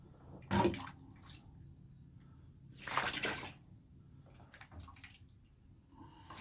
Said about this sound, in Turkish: Peynirimi keseye döküyorum.